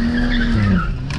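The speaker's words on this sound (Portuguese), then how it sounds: "Vou dar mais uma arrancadinha aqui." A BMW 335 with the catalytic converter removed and a custom downpipe launches hard, its tires squealing in a loud sustained screech over the roaring engine, close by and without speech.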